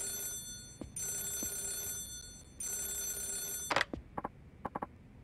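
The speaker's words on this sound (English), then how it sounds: "Is that the phone?" A telephone rings in the Yakuza 0 video game in two long bursts with a pause between them, then stops, followed by a few short clicks and taps.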